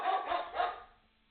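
A German Shepherd barking loudly indoors, three quick sharp barks in a row that fade out, heard through a muffled, band-limited microphone.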